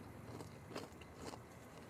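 Crunchy chicharon pork cracklings from a long-running Tondo shop bitten and chewed close up, with two or three crisp crunches spread over a couple of seconds against low background noise.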